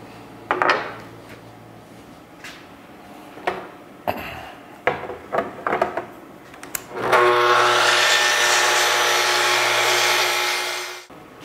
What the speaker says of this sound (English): I'm gonna use the track saw to get a square edge.